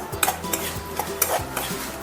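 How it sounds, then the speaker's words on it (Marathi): Finely chopped almonds frying in ghee for winter dink ladoo, stirred with quick, rhythmic scraping clicks over a light sizzle and a faint tonal background. "बदाम फ्राय करून झाले"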